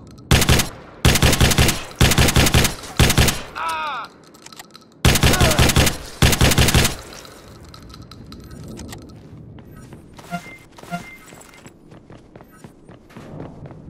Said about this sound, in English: Dude, this shotgun's awesome.